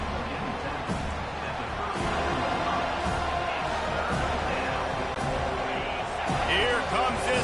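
Home crowd noise in an NCAA 25 college football video game during a third-down defensive stand, a steady broad roar that swells slightly toward the end, with commentary voices running over it.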